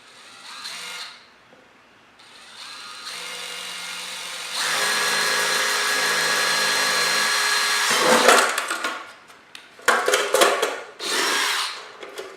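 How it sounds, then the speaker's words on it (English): A power drill whirs in short bursts, then runs steadily for several seconds while grinding through a plastic kayak hull, followed by stuttering pulses and a final spin. "So to start, we'll just line it up and start drilling."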